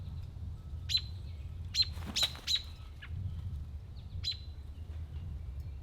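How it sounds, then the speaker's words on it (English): Bird calling near its nest in bushes on a disc golf course, a few sharp, high chirps spaced irregularly over quiet outdoor background rumble, fairly close but not loud. "Got this bird trying to attack me in the bushes in there because it's got a nest right where the disc was."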